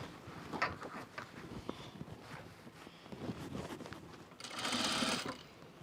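Sewing machine stitching a project bag with a heavier bobbin, running in short uneven bursts, then a steadier, louder whirring run near the end; fairly faint overall.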